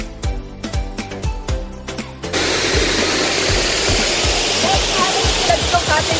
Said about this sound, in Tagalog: may napakalakas ng agos ng tubig